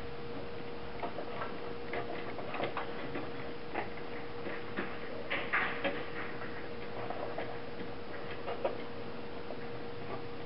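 A Brother LX-3125 sewing machine stay stitches along the seam allowance of a men's dress shirt collar, giving a steady quiet needle ticking with a constant motor hum and a few louder clicks, no voices.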